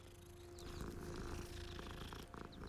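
A cat in the Hogwarts Legacy video game purrs softly and continuously, a low rumbling texture with faint background game sounds and no talk.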